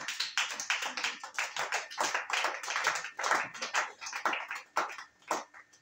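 A church congregation claps in loud, irregular bursts to acclaim Jesus during a worship service, sharp hand claps overlapping unevenly with no voices over them.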